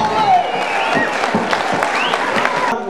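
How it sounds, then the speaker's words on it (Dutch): A crowd claps energetically at a village farmers' wedding festival, with scattered voices and cheers mixed into the loud, close applause. "Dus nogmaals, even een daverend applaus."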